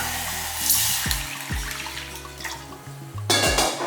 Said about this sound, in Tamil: இப்போ ஒரு கப் அளவுக்கு பாகு காய்ச்சறதுக்கு தண்ணி ஊற்றிக்கலாம்